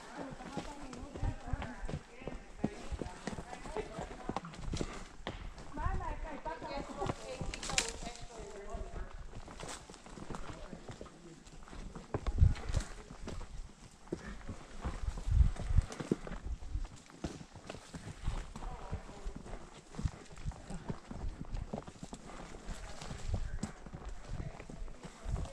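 Horse hooves clip-clopping on a trail ride, a rhythmic mid-distance thudding that persists throughout, with people talking and outdoor noise over it.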